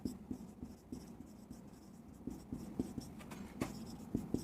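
Chalk or marker writing numbers on a board during a maths lesson, a series of close scratchy strokes and taps in an uneven rhythm with no talking.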